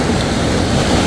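Sea waves wash ashore at Harchane beach between El Jadida and Oualidia on calm water, a loud, close, continuous broadband rush of surf mixed with wind buffeting the microphone.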